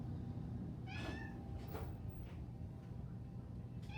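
Cats meow in an animal rescue intake room, with about three or four short, faint meows spaced apart over a steady low indoor hum.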